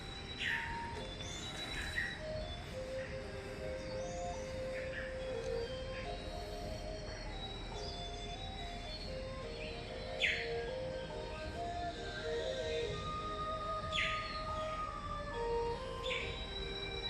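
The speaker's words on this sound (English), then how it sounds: "Sometimes you can hear the birds all around you" Birds call from trees in China, with repeated high chirps and short whistled notes scattered across a steady, low background hum of outdoor ambience.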